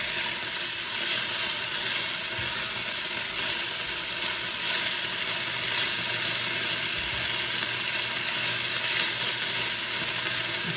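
Food browning in a hot pan gives off a steady, dense sizzle, loud and close, with occasional stirring scrapes and no talk.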